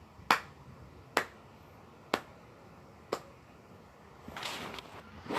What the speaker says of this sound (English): And then he starts clapping.